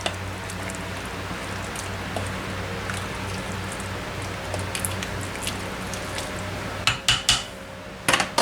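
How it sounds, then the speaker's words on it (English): A spoon stirs food in a pot at a goat farm kitchen, a soft continuous scraping and swishing under a low hum, ending in several sharp metallic clinks of utensil against the pot. "We're gonna stir it up good."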